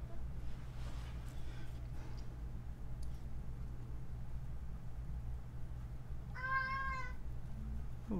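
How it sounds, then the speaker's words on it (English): A big pet cat gives a single clear, close meow near the end, rising out of a steady low hum after a long stretch of quiet. "That's my big kitty."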